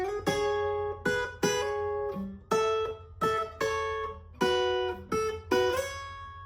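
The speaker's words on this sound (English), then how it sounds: "I layered all those other guitar parts on top of it" Layered electric guitars play a raw, soulful rock passage with little lead lines on top, rhythmic strummed chords that cut off and restart roughly every second, loud and close with no voices.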